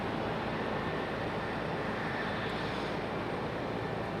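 An airplane arriving at Raleigh-Durham International Airport, heard as a steady, loud broadband jet roar that holds evenly throughout with no talking.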